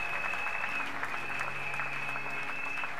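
Congregation applauding in a church service, a steady, dense wash of clapping from many hands that holds evenly throughout, with a sustained high musical tone ringing above it.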